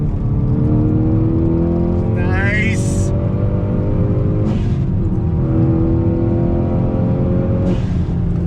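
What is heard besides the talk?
Hyundai Veloster N engine revving while driving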